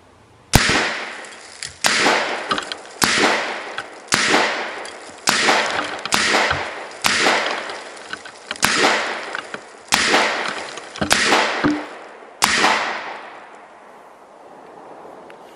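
A FightLite SCR featureless AR-15 rifle fires about a dozen loud, sharp shots at steady intervals of roughly a second, each crack followed by a short ringing decay, ending with the last shot fading out.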